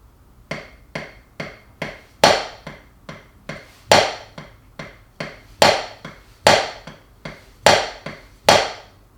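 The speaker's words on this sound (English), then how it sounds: "You're going to play a steady series of quiet notes, essentially a straight beat made of tsu for you taiko players" Taiko drum drill: a steady run of quiet tsu strokes in even rhythm, broken every few beats by a louder, sharper accented don, about twenty hits, close and with nothing else heard.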